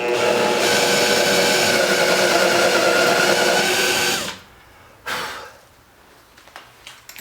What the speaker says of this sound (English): I'm just going to drill down here